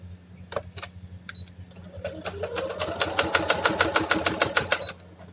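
A sewing machine stitches kurta cloth, joining two plates along a seam, its rapid needle strokes building into a steady mechanical chatter over a low hum, close and moderately loud, then stopping near the end.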